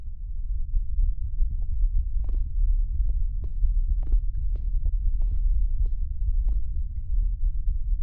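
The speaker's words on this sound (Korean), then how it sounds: "약간 두근두근 소리 들리거든요? 이거 내 심장 소리 아니거든?" A slow, faint thumping heartbeat drifts in the horror video game ROMUT, soft irregular pulses sitting over a steady low rumbling hum.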